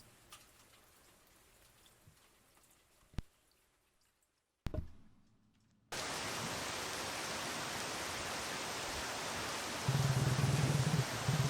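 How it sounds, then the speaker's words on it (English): Rain in the horror video game Picta Mori, on the walk home from the gym, starts as a quiet patter with a few drips and thuds, then abruptly becomes a loud, steady downpour that keeps pouring. "The rain has gone worse when I start heading back home from the gym."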